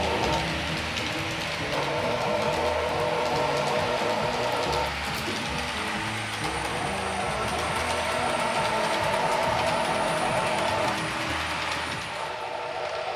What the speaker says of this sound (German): Die Triebstangengeräusche wurden hierfür exakt an das Fahrverhalten der Lok angepasst.